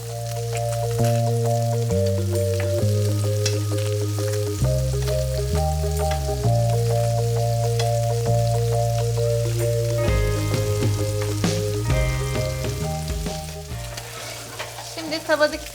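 Butter melts and sizzles in a pan while broccoli is stirred, a soft, steady frying hiss with occasional stirring ticks, partly under a prominent background music track, no one speaking.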